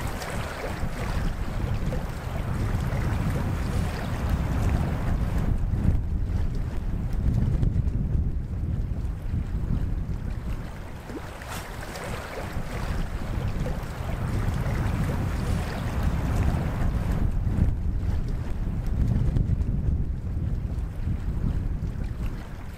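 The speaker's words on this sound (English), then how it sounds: "It's blowing this way, so it was going to take the canoe, but yeah, pretty huge gusts." Strong wind gusts roar across a rainy campsite beside a canoe, surging and easing in broad waves of heavy rumbling buffeting that never fully drops away.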